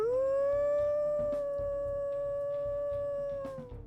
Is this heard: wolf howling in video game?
yes